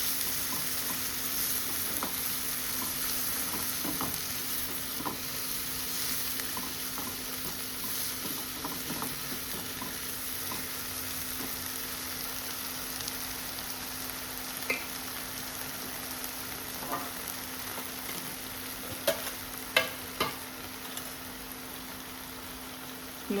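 Squid for a rawa fry sizzles steadily in a hot pan, a constant close frying hiss with a few small pops and spits near the end.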